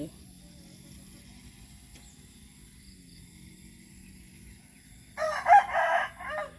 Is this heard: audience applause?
no